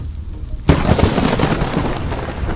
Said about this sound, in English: a weatherman is reporting on a thunderstorm, but that's when a gigantic lightning strike hits just feet away